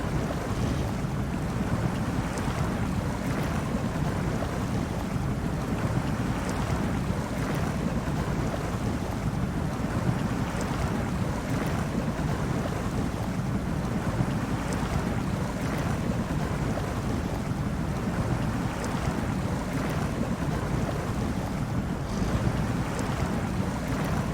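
Truck in SnowRunner, Apache DLC, grinding through deep water: a steady, unbroken wash of churning water and engine rumble, loud and close, holding even for the whole stretch with no talk.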